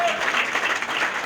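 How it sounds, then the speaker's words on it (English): Audience applause at a holiday chamber dinner and dance, a short burst of steady clapping from a room full of guests, fairly loud and without talk. "let's give them a round of applause"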